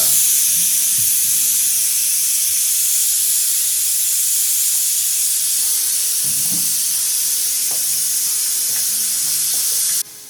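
A pressure cooker releasing its steam, a loud, steady close hiss that lasts about ten seconds with faint clinks beneath before it cuts off abruptly.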